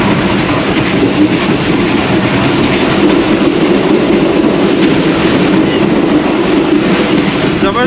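Train ZCU 26404 running at 100 km/h through Ahmedabad railway station: a loud, steady rumble of wheels on track with constant clattering, unbroken from start to end.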